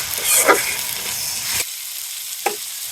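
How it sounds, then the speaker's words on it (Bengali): Green chilies fry lightly in oil with onion paste, a close hiss with spatula stirs that cuts off sharply, followed by a lone scrape. "কাঁচামরিচ এই যে হালকা ভাজা নিব।"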